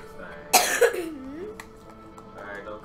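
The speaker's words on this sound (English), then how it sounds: "don't cough right into the microphone" A single sharp cough bursts close to a microphone, followed by a quick second hack and a brief voiced throat sound, then low room tone with faint talk in a gameplay recording setting.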